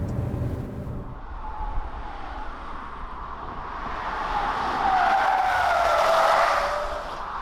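A Ssangyong Korando with a 6-speed automatic gearbox drives on twisty roads. Steady engine and road noise fills the clip, with tire roar swelling louder toward the middle and end, and no talking.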